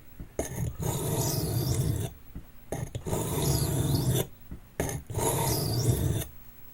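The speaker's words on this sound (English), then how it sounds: "I'm checking often because I know that this stone cuts really well and really fast." A blade rasps in three long strokes across a coarse grit sharpening stone, each pass a loud, gritty scrape separated by short pauses.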